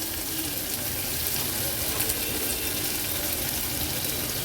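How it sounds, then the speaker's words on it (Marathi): Finely chopped large onion frying in a pan of oil with crushed ginger-garlic paste, cooking for dry Agri Koli style mutton; a steady, close, dense sizzle runs throughout with no talking. "आता आपण ह्याच्यामध्ये एक मोठा कांदा बारीक चिरून ॲड करणार आहोत"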